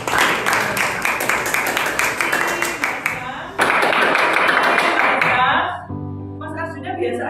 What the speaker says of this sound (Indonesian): bisa kita memberikan aplaus?